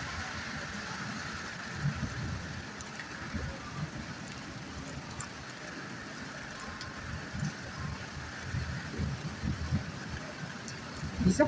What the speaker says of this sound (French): Bizarre comme phénomène, il pleut là.